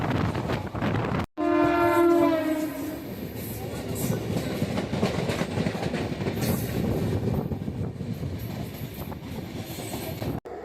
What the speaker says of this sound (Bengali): 15235 দ্বারভাঙা উইকলি সুপারফাস্ট এক্সপ্রেস।